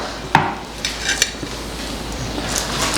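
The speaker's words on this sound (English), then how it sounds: "I'm gonna pull them off the tray" Cooked barramundi being lifted off a baking tray: a sharp utensil clack followed by a few softer scrapes and taps against the tray, close by and alone, with a faint hiss underneath.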